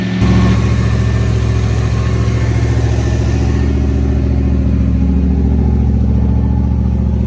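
A 1988 Holden VL SV88 engine with carburettor trouble runs with its muffler removed, giving a loud, steady, unmuffled idle that drones on close by for the whole stretch.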